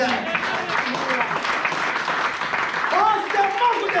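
Church congregation applauding steadily during a worship service, a dense wash of clapping that holds for the whole stretch beneath a voice speaking and briefly intoning over it.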